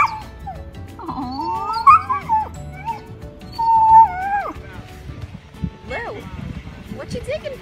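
A 135 lb Rottweiler whimpers and lets out drawn-out, wavering howl-like whines in several bursts, close and fairly loud, with people talking around it.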